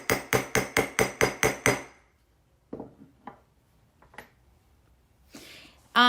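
A hammer strikes metal stamps on a stainless pendant, seven sharp evenly spaced ringing blows close up, then a pause and a few lighter scattered taps.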